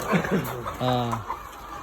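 Laying hens at the end of three years in production cluck briefly and nearby, a couple of short calls followed by a longer drawn-out cluck.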